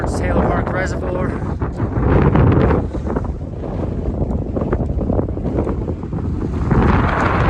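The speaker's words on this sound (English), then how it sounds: "Excuse the wind, it's pretty windy up here." Strong gusts of mountain wind batter the microphone on a high summit trail overlooking a reservoir, a loud continuous low roar that swells and surges throughout, with a voice speaking faintly beneath it.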